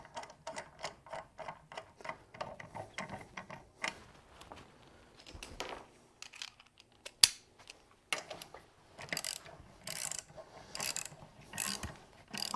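A hand ratchet clicks in quick bursts while tightening leaf spring bolts on a vehicle, with pauses between runs of rapid pawl ticks and occasional metallic clanks, close and fairly quiet.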